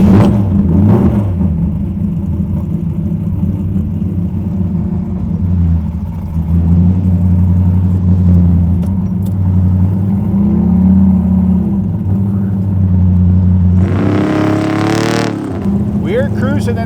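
A drag-and-drive car on its first test runs down a drag strip, its engine roaring loudly and steadily throughout with a rising rev surge near the end, heard up close.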